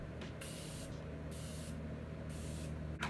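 Makeup setting spray is misted onto a face in three close, sharp hissing bursts of about half a second each, evenly spaced, over a quiet low hum.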